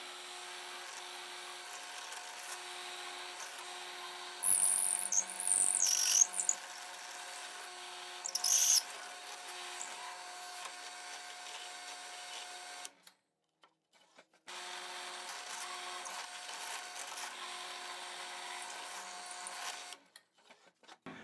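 A drill boring holes in wood while building a Moxon bench vise, a steady motor whine with louder bursts as the bit bites, stopping briefly before running again, close and alone.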